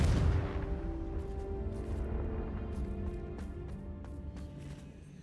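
A Confringo fire spell in Hogwarts Legacy strikes with a sharp, booming blast, then a decaying rumble and scattered crackles fade out over a few seconds.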